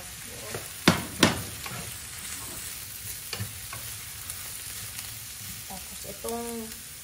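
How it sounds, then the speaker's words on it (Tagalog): Tofu frying in a pan for sisig, with a steady soft sizzle under scattered sharp clinks and scrapes of a utensil stirring against the pan, and a brief soft voice near the end. "Tapos ilalagay ko na yung tofu."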